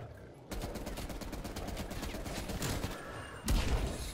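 An M60 machine gun fires in Cold War Zombies in rapid sustained bursts that are loud and close, with a heavier boom near the end and no clear talking.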